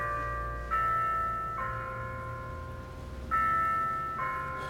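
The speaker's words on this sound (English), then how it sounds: "when I hear those bells" Church bells ring out in slow, overlapping peals, each strike leaving a long sustained tone that decays under the next, moderately distant and heard alone.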